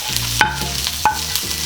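Garlic and onion sautéing in a pan for beef mechado, with a steady close sizzle broken by two sharp scrapes as the pan is stirred.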